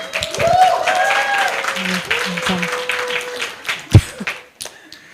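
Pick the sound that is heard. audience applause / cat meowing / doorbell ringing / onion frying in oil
audience applause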